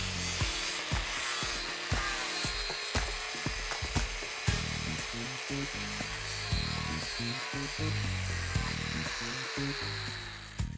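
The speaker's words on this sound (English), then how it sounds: "the ceramic fibre disc takes the weld away very efficiently" A ceramic fibre disc on an angle grinder grinds a weld bead level on stainless steel, a loud continuous high whine with rhythmic dips and scraping bursts as the disc is worked back and forth.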